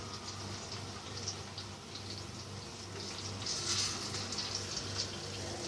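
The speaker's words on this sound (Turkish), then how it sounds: "Şerbeti yavaş yavaş döküyoruz" Warm syrup poured slowly over a freshly baked revani semolina cake, a soft, steady liquid trickle and splash that runs continuously at moderate level without talk.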